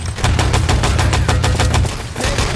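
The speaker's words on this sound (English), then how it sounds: "Shots coming through" Rapid automatic gunfire in the video game Enemy Territory Legacy during a 6v6 match on the Electra map, a loud sustained burst of close shots that pauses briefly before firing resumes.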